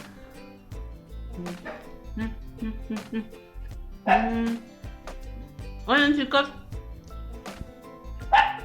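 A small dog yips and barks in short bursts, fairly close, with a person speaking briefly between the barks.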